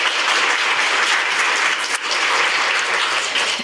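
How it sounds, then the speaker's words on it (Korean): An audience at a Korean National Assembly policy forum claps warmly to welcome a presenter, a full and steady round of applause lasting several seconds with a brief dip midway and no voices over it. "큰 박수로 맞아주시기 바랍니다."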